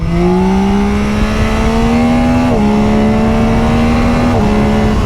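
A Yamaha Tracer 9 GT motorcycle engine revs up through the gears on a highway, pitch climbing steadily, dropping briefly at two shifts, then rising again; loud and close with constant wind roar.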